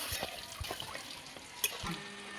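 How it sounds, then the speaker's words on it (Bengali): Water pours into a pan of fried-down spice paste for palak kofta curry, a steady close splashing flow with a small clink partway through. "পরিমাণ মতো জল দিয়ে দিচ্ছি"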